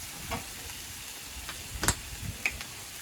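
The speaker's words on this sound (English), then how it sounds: "try and spread this out so we get as much of the meat touching the surface area of the hot surface so we continue to cook" Philly cheesesteak meat sizzles faintly on a hot griddle while a spatula spreads it, giving soft scrapes and a few sharp ticks over a low hiss.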